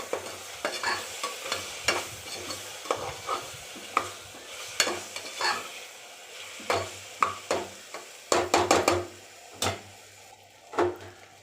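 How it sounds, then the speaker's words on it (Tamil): Ginger garlic paste sautéed in a pan for vegetable biryani, with a soft sizzle under repeated close scraping and knocking strokes of a spatula, one dense flurry of strokes near the end, and no talking. "இதுவும் நல்லா பச்சை வாசனை போகிற அளவுக்கு நல்லா வதக்கிட்டே இருக்கணும்"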